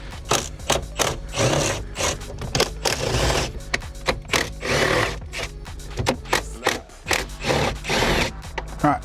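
Hand tools working the bolts on a no-prep drag car's ICC: four 8mm bolts and a Phillips screw at the top. Rapid ratcheting clicks and metallic mechanical rattles come in dense bursts, close and fairly loud, with no talk.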